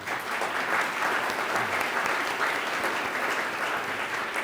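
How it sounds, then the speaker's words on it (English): Audience applause for a panel at an annual nonprofit event, a steady dense clapping from a crowd that holds at an even loudness throughout. "So give a round of applause again for the panel."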